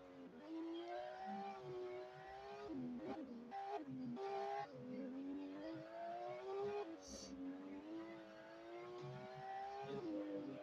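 In the Vehicle Legends video game, a car drives along a highway, its engine droning steadily while the pitch climbs and drops repeatedly through gear changes, continuous and fairly close with no talking.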